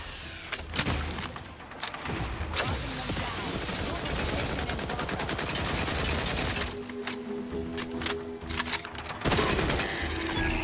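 Gunfire in The Outer Worlds 2 video game, a dense fusillade of rapid automatic shots and sharp cracks with a few booming thumps, loud and continuous, close in the mix with no clear talking.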